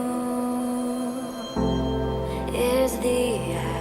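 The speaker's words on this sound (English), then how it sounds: "this little blade accent, like metallic blade sound." A metallic, ringing accent with a sharp onset partway through, followed by bright shimmering tones layered over a steady low musical drone.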